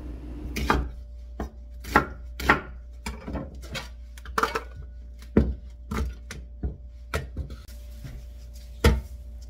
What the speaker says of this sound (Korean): 양파를 썰어서 갈을 거예요